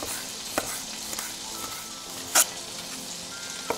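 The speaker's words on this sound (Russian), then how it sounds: "в сковороду добавляю немножко сливочного масла. И чесночок пошел." Garlic sizzles in butter in a frying pan, a steady close-up crackle and hiss with a few sharp clicks and stirring knocks, and no talking.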